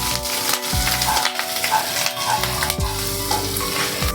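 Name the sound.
grated ginger frying in a pan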